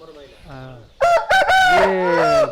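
A Thumar breed rooster crows loudly and close by, giving a full cock-a-doodle-doo with strained, wavering notes after a softer lead-in call.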